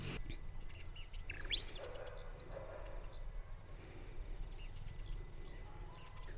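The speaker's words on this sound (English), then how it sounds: "Walking through the zinnias, there's some birds having a little play session in there." Small birds chirp faintly among zinnias in a flower-farm garden, giving scattered high tweets over steady outdoor hiss while someone talks softly nearby.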